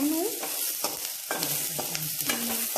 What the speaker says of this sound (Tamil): நாங்கள் 3 பச்சை மிளகா போட்டுக்கோம்